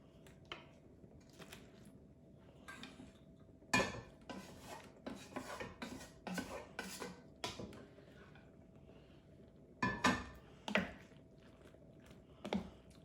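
A spoon scrapes and stirs cooked noodles into a pot of cheese sauce for beefy mac, producing intermittent sticky rasping and clunking strokes in irregular bursts, fairly close, with quiet pauses between.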